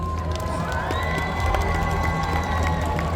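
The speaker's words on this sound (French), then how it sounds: "On peut continuer à les applaudir." A crowd at a cosplay contest awards ceremony at a Japan-themed festival in Tours cheers and claps for contestants. The noise is a loud, steady wash of cheering with scattered shouts and whistles.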